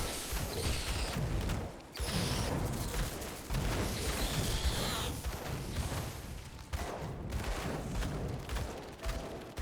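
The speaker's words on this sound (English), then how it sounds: "It's that sort of explosion." Fiery explosions from a Vindictive Flame ability in Grim Dawn as enemies rush in, a dense, continuous stream of overlapping booms and crackling bursts with brief dips between waves.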